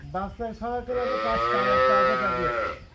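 A dairy cow at a cattle fair moos loudly and close by, a long drawn-out call after a few shorter lowing sounds, with faint voices nearby.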